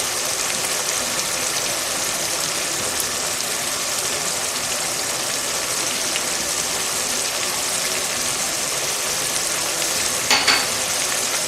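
Rice stew with bouillon cubes being stirred in a pot, giving a steady close sizzle and scraping stir sound throughout, with a brief louder clatter near the end and no talk.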